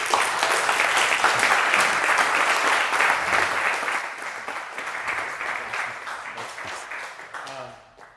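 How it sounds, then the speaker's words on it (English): A conference audience applauds David Berry after an entrepreneurship talk, dense steady clapping that fills the room and holds strong before tapering off toward the end, with no voices over it. "A round of applause for David."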